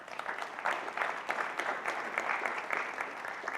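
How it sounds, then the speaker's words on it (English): Audience applause at a welcome and opening remarks event, a steady wash of clapping sustained throughout at moderate distance, without speech. "they deserve a round of applause for that"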